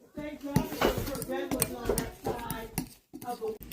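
A spoon scrapes and clinks steadily around a bowl while baking-soda batter is mixed, close and fairly quiet, with brief pauses near the end.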